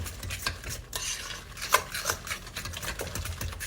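A spoon mixes egg salad with mayo and cream cheese in a bowl, producing soft wet squishing and irregular clinks and taps against the dish, close and fairly quiet.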